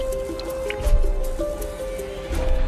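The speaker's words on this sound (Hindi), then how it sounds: "मेरे ऊपर वाले सेल से मेरी लाइट में पानी लीक हो रहा था" Water drips and squishes in a prison cell, leaking from the cell above into a light fixture: a few soft, irregular wet drips over a low rumbling background hum.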